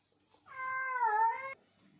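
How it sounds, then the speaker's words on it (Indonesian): A cat in heat lets out a single drawn-out, wavering meow lasting about a second, close and clear against a quiet background. "Lagi pengen kawin kucing gue"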